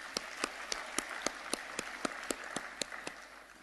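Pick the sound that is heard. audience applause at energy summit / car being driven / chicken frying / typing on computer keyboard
audience applause at energy summit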